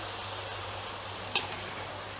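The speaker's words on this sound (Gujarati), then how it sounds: "આ રીતે આપણે બધા ખાખરા તળી લીધા છે" Khakhra flatbreads frying in hot oil give a steady, soft sizzle with one brief clink or splash near the middle, no voices.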